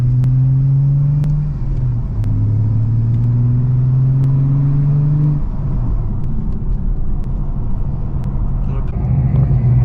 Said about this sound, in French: quand on conduit vraiment tout doucement, le bruit est extrêmement grave